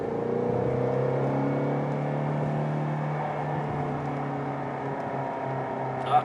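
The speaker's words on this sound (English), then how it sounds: "Typical New York rush hour traffic" Steady engine drone and road noise inside a Shelby GT350 moving through New York rush hour traffic in the rain, a continuous low whir with no talking.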